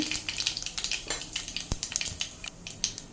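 Mustard seeds, cumin, asafoetida and turmeric sizzle in hot oil for a tempering, crackling and popping in quick irregular bursts with one sharp metallic clink, close and without voices.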